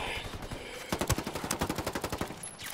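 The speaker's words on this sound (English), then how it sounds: "Under heavy fire." Heavy rapid gunfire in Ghost Recon Wildlands, a steady, even automatic burst of shots that pick up midway and keep a fast regular rhythm, fairly close.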